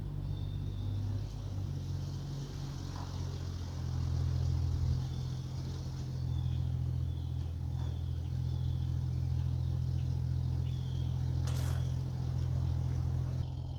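A 1996 Jeep Cherokee XJ with a 3-inch lift kit driven a short distance: a steady low engine drone and rumble heard from nearby, with a mild swell in the middle and no talking.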